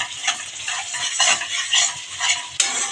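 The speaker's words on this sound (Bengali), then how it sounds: "যতক্ষণ মশলাটা দিয়ে কাঁচা গন্ধটা না যাবে ততক্ষণ আমি কষিয়ে নেব" Spice masala for a bhangar fish curry stirred and fried in a pan: continuous sizzling with repeated scraping strokes of a spoon, close and steady, ending in a sharper clatter; no talking.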